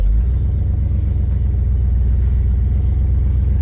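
The V8 engine of a 1973 Cadillac runs in gear with a steady, loud, close low rumble and an even pulsing throb throughout.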